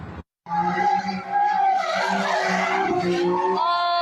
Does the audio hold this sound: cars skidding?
yes